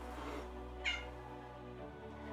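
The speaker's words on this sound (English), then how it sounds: "Sony, that's our cat." A single short cat meow rises briefly over a steady low hum, quiet and fairly close, with no talking.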